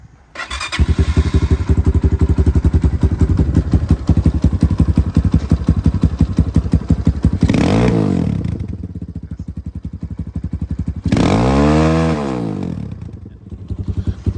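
A Kayo K2 dirt bike engine runs close by with a rapid, rattling idle, revving up twice in short bursts before settling back.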